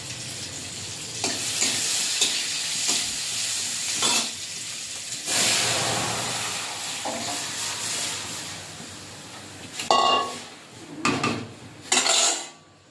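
Boiled dal and mango tipped into a pan of fried onions, hissing and sizzling, with bursts of metal spoon-and-pan clatter as the mix is stirred, loud and close with no talk.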